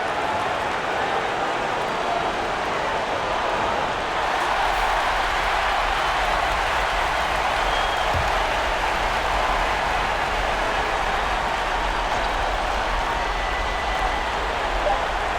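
A home crowd in the College Hoops 2K20 basketball video game roars steadily at the final buzzer, a dense, continuous wash of cheering that stays loud and even throughout.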